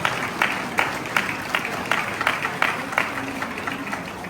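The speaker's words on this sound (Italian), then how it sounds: "vi chiedo anche un grande applauso per Giancarlo Gentilini" A crowd gathered in Treviso's town square for a Liberation Day commemoration applauds in memory of former mayor Giancarlo Gentilini, with individual claps standing out in a regular rhythm over a steady outdoor wash of hands.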